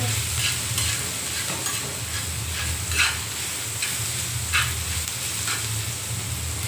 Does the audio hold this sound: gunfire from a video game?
no